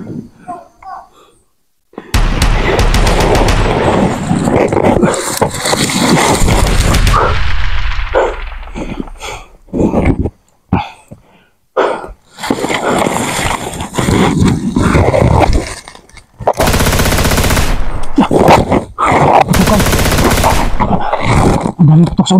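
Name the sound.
gunfire, many shots in the distance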